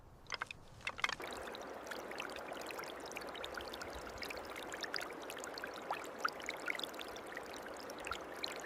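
Cold water pours and splashes continuously over raw bone material being rinsed for purification, a steady close stream with occasional sharper splashes and drips.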